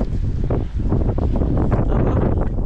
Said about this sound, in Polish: Jak tu wieje.